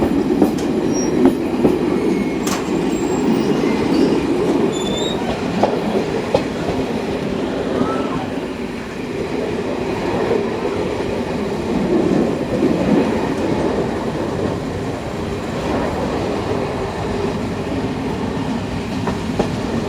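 A passenger train runs along a railway through Morocco's Sahara desert, its wheels rumbling and clacking continuously with occasional sharp clicks, heard from on board at a loud, steady level.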